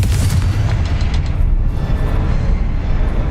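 A Confringo fire spell from the Hogwarts Legacy video game bursts in heavy, booming blasts, loud and close, with rumbling low thuds filling the whole moment.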